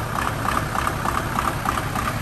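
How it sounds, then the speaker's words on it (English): A 1999 VW T4 2.5 TDI diesel engine idles roughly, its steady close mechanical drone carrying a regular ticking knock about every third of a second, with no talking over it. "you can hear the tick over. It's not great."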